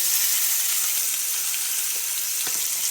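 Salmon sizzles steadily in a hot pan as it is flipped with a spatula, a loud, close, continuous hiss of frying with a couple of faint clicks near the end and no talking.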